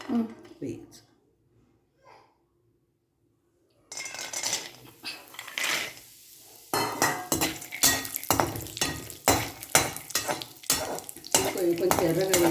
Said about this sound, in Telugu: పల్లీలు వేయించాలంటే వేగాలి కదా. నూనె వేగితే వేడెక్కితే వేయచ్చు.